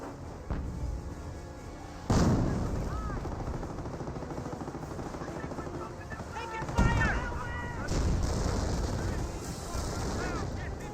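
Battle in Company of Heroes, a World War II strategy game, with autocannons shooting down anti-tank guns: steady rolling gunfire and heavy cannon thumps with explosive bursts, continuous at moderate distance, under a commentator's talk.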